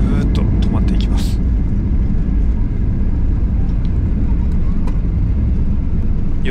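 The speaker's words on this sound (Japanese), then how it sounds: "着地に成功するんですね。 そうすると、ちょっとね、安心しますよね。 ぐーっと止まっていきます。" A JAL airliner touching down and braking on the runway at New Chitose Airport, heard from inside the cabin as a loud, constant deep roar and rumble, with a muffled voice present beneath.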